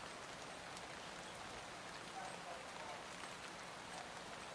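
Rain falls steadily with a soft, even hiss. It sounds quiet and somewhat distant, with no voices.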